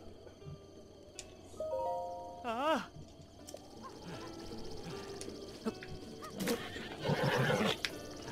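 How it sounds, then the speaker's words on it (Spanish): Horse neighing in the video game Zelda Breath of the Wild, a clear wavering whinny mid-clip among game chimes and clip-clop hoofbeats, with a voice talking over the scene. "Buen caballo."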